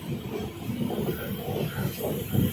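Rumbling of a summer special express train at Samalkot railway platform in Andhra Pradesh, a steady low rolling drone with faint hiss, moderately quiet and continuous throughout with no talk.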